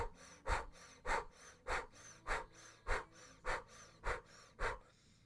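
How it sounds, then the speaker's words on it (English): Rapid breath of fire in kundalini practice, with about ten sharp, evenly spaced breaths forced through the nose or mouth, close and fairly quiet, in a steady rhythm and with no talk. "So that's a pretty rapid O-shaped breath of fire."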